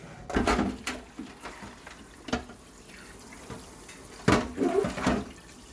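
Tap water runs and splashes in uneven bursts while a raw turkey is washed in a sink, close and moderately loud against a quiet room.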